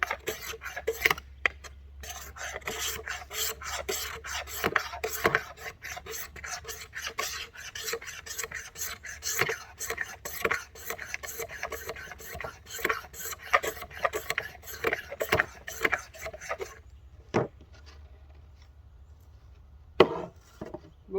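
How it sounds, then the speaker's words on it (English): A blade scrapes shavings off bamboo for a tinder bundle: close, continuous rasping strokes in quick succession, pausing briefly near the end before one last scrape. "take your bamboo and you start scraping some shavings off for your tinder bundle"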